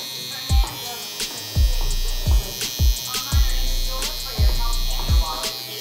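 Electric hair clippers hum close and loud while cutting a taper fade, with the lever open. Short low thumps recur as the blade strokes through the hair in a steady rhythm of passes.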